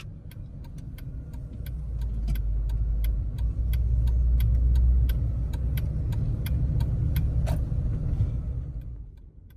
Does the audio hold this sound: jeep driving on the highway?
yes